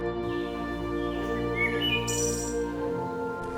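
Chirping calls from a blue talking parrot in a forest setting, a few bright tweets and short whistles rising over a steady tonal musical bed, without any speech.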